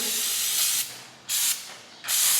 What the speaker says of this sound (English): Use lots of brake clean to clean it off.